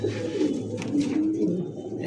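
Pigeons coo close by in low, throaty, continuous murmurs, with one brief sharp click partway through.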